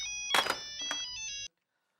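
A phone rings with a bright electronic ringtone, a run of sustained musical tones with a few sharp accented notes, ending abruptly after about a second and a half into silence.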